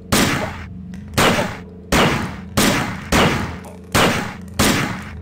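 A weapon fires in the sci-fi shooter System Shock 2, seven evenly spaced loud single shots roughly three-quarters of a second apart, each with a sharp crack and a short decaying tail.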